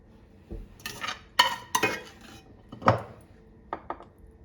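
Pasta bake being assembled as mince mixture goes into the dish for Greek pastitsio: a few scraping, clattering utensil-on-dish sounds, spoon taps and clinks in irregular bursts, close and moderately loud, with no talking.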